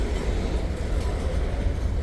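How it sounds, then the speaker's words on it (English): An Ohio Central Railroad freight train of 60 or more cars rolls past near Newark on a former Baltimore and Ohio line, a steady low rumble and rush of wheels on rail filling the whole stretch without talk. "This train just came in out of Zanesville"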